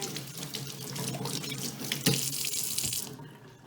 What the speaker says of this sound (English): I'm going to rinse off my hands here.